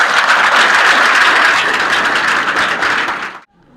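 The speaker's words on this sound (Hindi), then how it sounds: "इनके लिए ताली बजाइए।" An audience at Ram Sumer Murati Devi Inter College in Maharajganj, Uttar Pradesh, clapping for a student, a loud, dense burst of applause that holds steady and then cuts off abruptly near the end.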